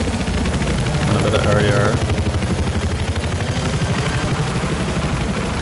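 Helicopter rotor chop from a chopper in a competitive video game tournament match, a steady loud thumping drone throughout with game engine noise, as commentators talk over it.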